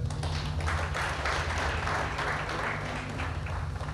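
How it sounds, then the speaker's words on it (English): Audience clapping at a Ghanaian news-event gathering: a steady, dense wash of applause that holds throughout at an even level, with a low hum running underneath. "we need to clap for them."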